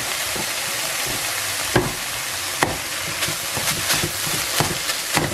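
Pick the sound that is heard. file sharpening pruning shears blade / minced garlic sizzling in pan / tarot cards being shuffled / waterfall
minced garlic sizzling in pan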